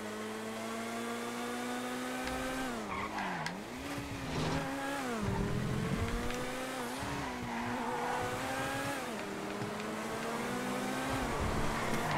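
Car engines drone and rev continuously in the GTA FiveM racing game, pitch rising and dipping through gear shifts as supercars and lowriders race laps, with tire squeals mixed in, loud and close throughout.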